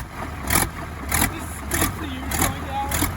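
A Ford F350 pickup with a Caterpillar diesel engine swap runs in high gear, a steady low rumble with regular rhythmic surges every half second or so, close and fairly loud.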